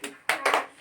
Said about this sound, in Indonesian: Oke, aplaus buat kalian semua.